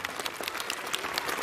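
Children at the opening ceremony of a municipal summer sports school in Kepez clap for themselves, a dense, steady crowd applause that fills the whole moment without pause.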